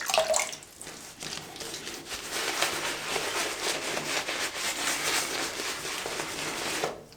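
Water splashes and trickles steadily while a synthetic-knot brush lathers a tallow-based shaving soap, a continuous wet, bright swishing held close and fairly loud throughout.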